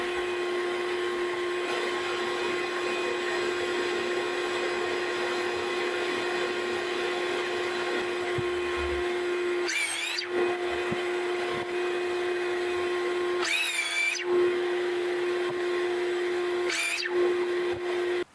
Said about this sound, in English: I can take them over to the miter saw, and I can cut them to the length that I need.